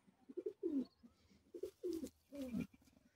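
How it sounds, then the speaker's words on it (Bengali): Pigeons coo inside a loft, several rounded, throaty calls in short bursts with brief pauses between, close and clear against a quiet background. "এইসব পায়রা।"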